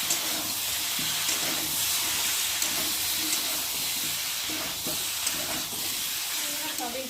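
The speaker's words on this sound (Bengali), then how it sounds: "এখন এই যে সেদ্ধ করে রাখা সয়াবিনটাকে আলুর সাথে আবার একটু ভালো করে কষিয়ে নেব।" Boiled soybeans frying with potatoes and spices in a pan for a vegetarian aloo dum, giving a steady, close, continuous hiss and sizzle with faint stirring.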